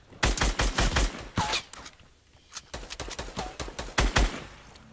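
Fortnite gunfire, a string of crisp rapid shots in quick clusters, loud and close, pausing briefly in the middle before more bursts resume, with no talking over them.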